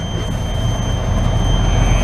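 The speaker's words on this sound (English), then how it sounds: "That buzzer, it releases the air out of the airbags in the back." A steady electric buzz from a flatbed truck's air-release system venting the rear airbags, droning continuously with low rumble underneath, loud and close throughout.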